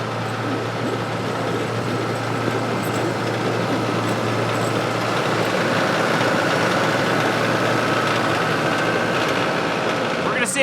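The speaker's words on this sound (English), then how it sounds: "We've got the tractor pulled out and all warmed up." A farm tractor, already warmed up, idles outdoors on a winter day, a steady low mechanical rumble with an even drone that holds unchanged throughout, close by and alone.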